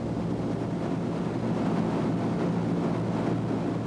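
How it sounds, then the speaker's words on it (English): Twin Bristol Mercury radial engines of a Bristol Blenheim, heard from the cockpit in flight as a steady, even, low droning roar mixed with broadband rushing noise, continuous and unchanging. "The Bristol Mercury engines have a smooth, powerful sound, but present some problems to the pilot."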